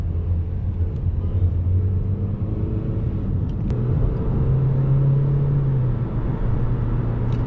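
Opel Astra J 1.6 CDTI 136 hp diesel accelerating at full throttle on a city road, a steady loud engine drone heard from inside the cabin, rising slightly in pitch, with no talking.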